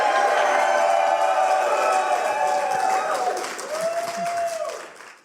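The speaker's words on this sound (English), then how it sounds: "let's go and give Jim Rugg a round of applause" Live audience at a convention interview gives a round of applause, a moderate wash of clapping with voices talking over it, fading out near the end.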